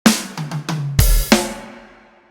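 Drum fill chunk played alone on a kit: a sharp snare hit opens, quick alternating right-left hi-hat strokes follow with kick drum, then a second big snare accent near the end rings out and decays.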